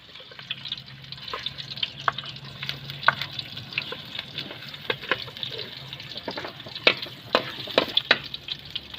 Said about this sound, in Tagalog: igigisa po muna natin yung ahos